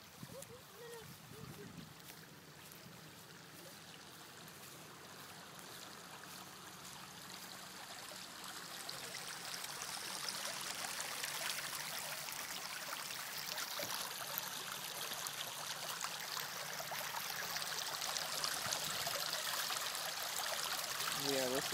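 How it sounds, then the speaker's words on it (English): Steady rush of a flowing stream in Connecticut that grows louder and fuller over time, with faint voices briefly at the start and end. "We are listening to the sounds of water music"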